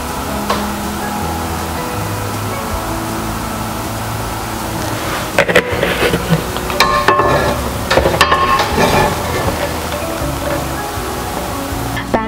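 Oil heating on a grilling pan on a stovetop, a loud steady sizzle and hiss with clatter and scraping from the pan in the middle section, and no one talking.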